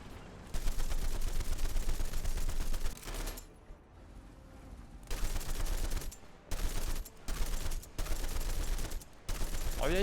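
Machine gun fire in the War Thunder video game, several loud sustained bursts of rapid shots separated by short pauses, over a steady low engine drone.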